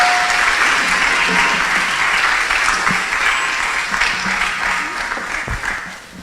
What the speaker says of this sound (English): Can we please give them another round of applause as they exit the hall?